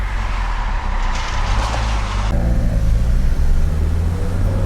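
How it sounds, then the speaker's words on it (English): A 1987 Dodge Daytona Shelby with a turbo engine drives along, its steady loud engine drone and road rumble heard from inside the car, the tone shifting midway as the load changes, with no talk. "Turbo is spooling nicely"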